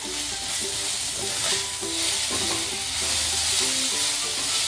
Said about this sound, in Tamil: வெங்காயம் நல்லா கோல்டன் ப்ரௌனாக வதங்கிடுச்சு.